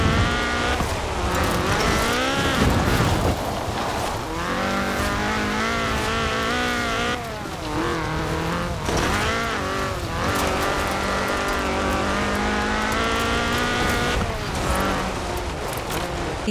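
Ford RS 1800 rally car in Forza Horizon 4, its engine revving hard through rising and falling gear changes with tire squeal and skidding, loud and close, with a brief speaking voice underneath.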